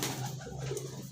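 A racing pigeon at a lakeside racing field gives a low, close cooing call in soft repeated pulses, with faint background noise around it.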